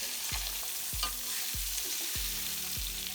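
Salmon frying in Parmesan garlic butter in a pan just after being flipped, a steady close sizzle with a few soft rhythmic scraping strokes, no voices.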